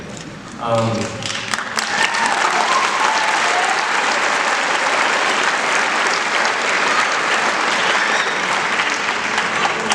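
Audience at a university graduation ceremony bursts into loud, sustained applause after a speaker thanks their parents, dense clapping filling the hall with a brief bit of talk at the start.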